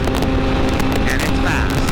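A motorcycle engine revs hard and steady while the rider holds a second-gear wheelie, a loud continuous roar with wind buffeting the microphone throughout.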